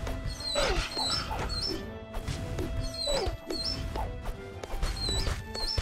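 Dogs bark and yip excitedly in the Regions of Ruin video game, several sharp repeated barks over steady pumping game music near a small fortress.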